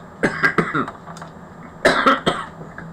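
A few short, harsh coughs from a person recovering from COVID, in two quick clusters, close to the listener, with a brief pause between them.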